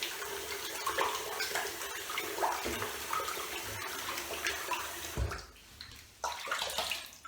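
During a shave with a brass safety razor, water is splashed onto a face while rinsing at a sink. Close, irregular splashing and running water continue, then break off briefly before resuming.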